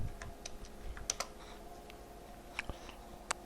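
Clicks and clacks of a computer keyboard being typed on, with an uneven patter of quick keystrokes and a few sharper taps, close and fairly quiet against a steady background hum.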